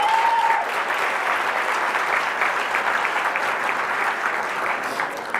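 An audience claps steadily for an honoree at a gala tribute, a dense, loud, continuous wash of applause that carries on without letting up for several seconds.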